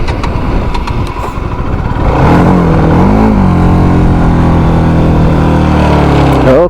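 A motorcycle on a rain-swept Ladakh mountain road, stalled at a turn, fires up with a loud, close engine that revs and swells in pitch over a rough, noisy background, then holds a steady growl.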